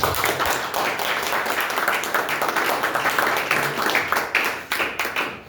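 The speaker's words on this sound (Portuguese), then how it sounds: "Vamos receber o nosso irmão, mas palmas para Jesus." Church congregation applauding together in a dense, continuous wash of clapping that fills the room, steady and loud throughout, with faint voices blending in underneath.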